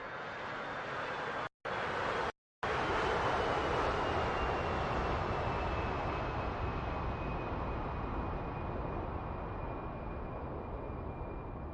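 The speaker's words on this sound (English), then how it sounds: "You'll see and hear the tanker, refueling tanker." Refueling tanker aircraft in a flight simulator game, a steady broadband jet engine roar that drones on throughout with a faint high whine, cut by two brief dropouts near the start.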